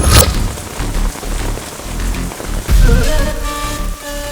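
Heavy rain pours steadily in a scene from a Hindi-dubbed South Indian action film, a dense hiss mixed with low rumbling and background music, fairly loud and without speech.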